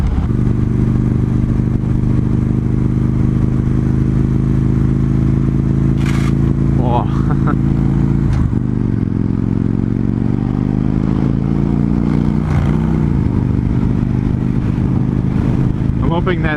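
A 2015 Victory Vegas 8-ball motorcycle engine rumbles steadily while riding, a loud low throb with a few shifts in pitch, and a voice speaks briefly over it.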